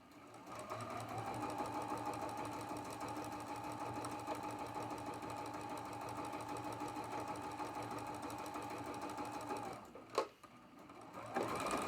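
A sewing machine runs the last seam of a quilt block, a steady close mechanical hum and rapid needle rhythm lasting about ten seconds before stopping with a clunk.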